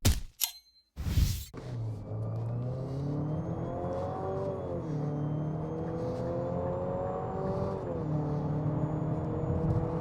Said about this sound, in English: we're going to do an acceleration test, so putting the vehicle in sport mode, we'll do full throttle